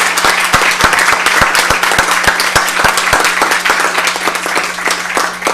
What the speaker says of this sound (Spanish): Pues les pido un fuerte aplauso para los ponentes.